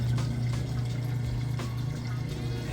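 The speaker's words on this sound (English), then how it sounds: "moving out of the wash cycle into the rinse cycle. Here, draining the water out there." Maytag washing machine draining its water as it moves from the wash cycle into the rinse cycle, a steady, loud rushing of water over a constant low pump hum throughout.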